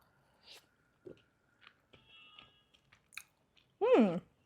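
Someone chews a bite of chopped boneless chicken with a smoky flavour, making sparse, quiet, close-up mouth clicks and soft crunches in near silence, then gives a short voiced hum at the end.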